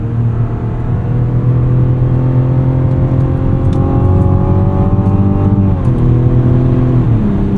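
A 2024 Mazda CX-90 Turbo 3.3 Premium Plus engine climbs steadily toward redline from inside the cabin, droning loud and constant, then drops in pitch as the automatic upshifts twice near the end.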